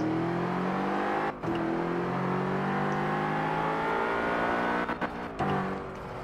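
Engine of a BMW F10 in a racing game, revving and holding a rising, droning tone with brief dips where the throttle lifts, close and steady.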